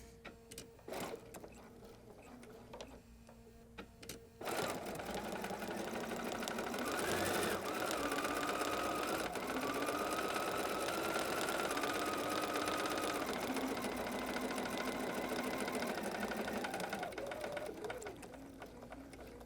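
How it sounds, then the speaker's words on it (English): Sewing machine stitching the seams of a rag quilt, a steady close mechanical whir that starts after a few seconds of quiet handling noise and runs continuously for most of the clip. "So I'm going to start stitching just a little bit, and I'm going to back up."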